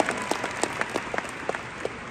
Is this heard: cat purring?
no